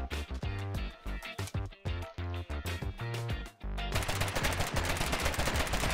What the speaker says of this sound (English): keep shooting, keep shooting.